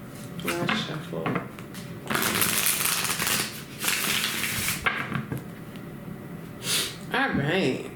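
Tarot cards shuffled by hand in repeated riffling bursts, close and fairly loud, with brief breaths and small handling noises between them.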